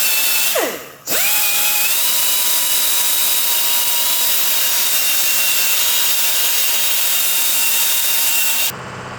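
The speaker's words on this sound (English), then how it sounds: "We used sanding and polishing tools, including this belt sander, to fine-tune the trim pieces." A belt sander works on aluminum trim pieces for a grille, giving a steady, loud grinding whine close by. A brief drop in the sound comes early, and it stops abruptly at the end.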